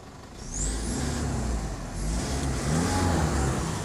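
Modified pickup truck with a turbocharged engine revving steadily and close by, a continuous throaty drone that swells in two pushes toward the end, with no talking over it.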